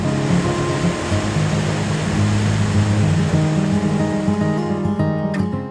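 Steady broadband rush of the River Avon flowing past Malmesbury, beside the part-ruined 12th-century abbey, holding an even level throughout with faint tonal hum layered beneath the water noise.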